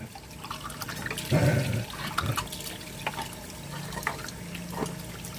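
A canned fish tin being washed under running water, close and moderately quiet splashing and trickling with a brief louder gush near the start and scattered drips and knocks.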